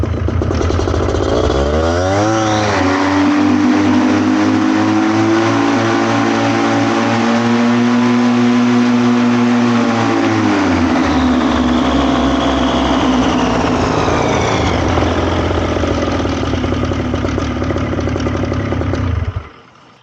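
A Vittorazi Cosmo 300 paramotor engine on a FlyProduct Xenit trike revs up from idle to a loud, steady full-power drone, holds for many seconds, then eases down and cuts off near the end.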